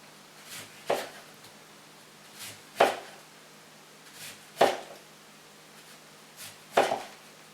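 A knife cuts oranges into thin slices for red and white sangria, four crisp strikes against the board spaced about two seconds apart, each followed by a soft scrape in a quiet kitchen.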